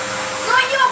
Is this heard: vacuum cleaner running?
yes